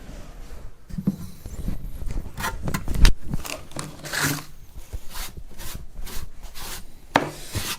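Rough scraping and rasping as wood is shaved from an acoustic guitar's top, repeating in irregular strokes, close and fairly loud, with occasional sharper knocks between passes.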